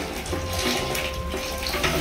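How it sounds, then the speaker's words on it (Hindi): Tap water runs steadily into a sink while a dirty item is washed during a house move, with a close, gushing splash and no talking. "तो इसको धो लेते हैं।"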